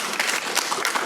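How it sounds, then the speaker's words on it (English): Audience applause at a university dinner celebration, a dense steady patter of many hands clapping at close range, continuous through the moment without any speech. "Let's give them applause."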